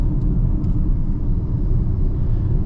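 A 2024 Audi Q8 55 Premium Plus with a 3-liter turbocharged V6 brakes hard from speed, giving a steady loud low rumble of road and tire noise inside the cabin with no distinct squeal, and no talking.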